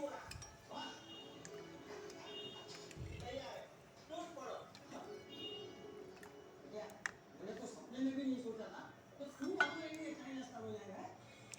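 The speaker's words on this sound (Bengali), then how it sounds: "ঢেলে এভাবে ভালো করে চামিচ দিয়ে লাড়াচাড়া করবো" A spoon clinks and scrapes against a bowl while stirring plain yogurt culture into warm milk, light repeated taps and knocks, with someone talking over it throughout.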